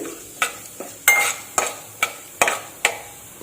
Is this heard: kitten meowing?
no